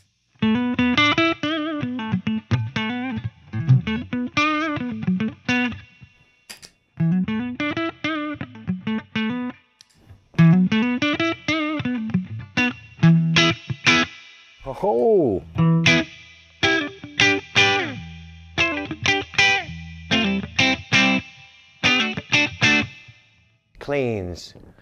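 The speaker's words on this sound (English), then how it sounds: "Try a little boost." Epiphone '59 Les Paul with Burstbucker Pro pickups, played through a boost for a gritty overdriven tone, loud riffs and bends in bursts with short gaps between phrases.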